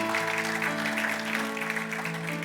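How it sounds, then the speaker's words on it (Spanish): Church congregation applauding during a Spanish-language Christian service, steady broadband clapping sustained across the whole moment, with musical tones sounding underneath. "Denle ese aplauso fuerte al Señor porque Él es bueno."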